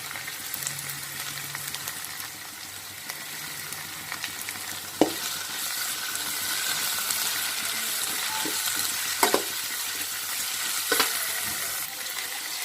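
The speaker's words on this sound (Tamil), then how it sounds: "கேரட் சேர்த்து ஓரளவுக்கு வதக்கிட்டோம்" Carrots and other vegetables sauté with ginger-garlic paste in a pan for gobi fried rice, giving a steady frying sizzle with a few sharp knocks of a spoon stirring against the pan.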